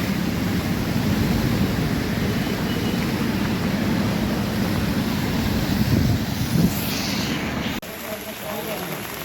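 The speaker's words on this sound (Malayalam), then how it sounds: "അത്രയും ഫോഴ്സിലാണ് വെള്ളം വന്നുകൊണ്ടിരിക്കുന്നത്." Floodwater rushes past with great force during a flood that has swamped homes, lorries and a timber depot, a loud continuous roar with wind buffeting the microphone, ending in a sudden drop.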